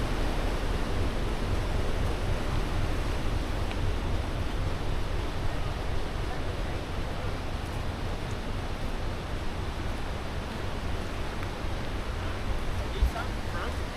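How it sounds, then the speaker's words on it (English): A river rushes steadily at the start of the Inca Trail near a bridge, a broad, constant roar of flowing water that stays even throughout with no talk. "Oh, look at that river, look at the bridge over the river."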